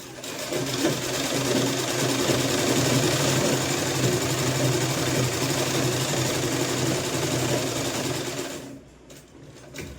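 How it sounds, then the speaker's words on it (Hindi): A sewing machine stitches a sleeveless kurti in a fast, even, close mechanical whir and rattle for about nine seconds, then stops abruptly with a few faint clicks at the end. "अभी जो हमारे फिटिंग का निशान है इसी के ऊपर से हम सिलाई लगाएंगे"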